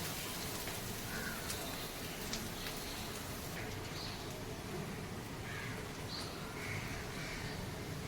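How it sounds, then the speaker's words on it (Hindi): Onion chutney frying in oil in a pan gives a soft, steady sizzle throughout, quiet and close, while a few faint crow caws sound in the background and no one speaks. "ये जब तक इसका तेल नहीं छूटता है तब तक हम इसको भूनेंगे।"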